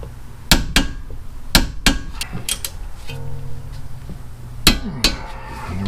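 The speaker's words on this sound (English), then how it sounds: "Okay, I'm torquing these down to 79 foot-pounds." Sharp metallic clicks and clanks ring out from a torque wrench tightening front brake bolts on a Toyota RAV4, with several distinct hits spread across the clip and a brief ringing tone in the middle.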